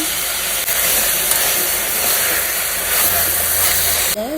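Vegetables frying hard in a hot pan during Karnataka home cooking, a steady loud broadband sizzle with a hissing, steamy edge that runs without a break, no voices over it.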